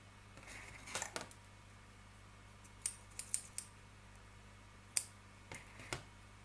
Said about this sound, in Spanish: aquí hacemos 2 nudos y cortamos el hilo